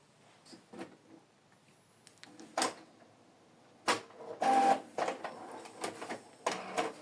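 An Epson L3280 inkjet printer running a borderless color photo print, giving intermittent mechanical whirs and clicks with louder bursts of carriage and feed movement, close by and with no talk.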